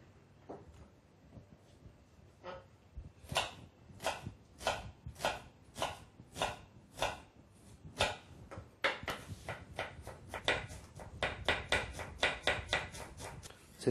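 Half an onion being chopped very finely with a knife on a board, a run of crisp, close, regular blade strikes that quicken into a rapid patter toward the end, with no talking.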